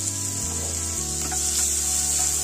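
Onions frying in a pan until pink, heard as a steady, close sizzle with faint stirring scrapes underneath and a low hum throughout.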